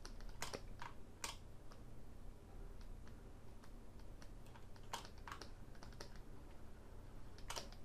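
Computer keyboard keys pressed in irregular clusters during 3D modeling work, sharp close clicks standing out over a low steady background hum, with no talk.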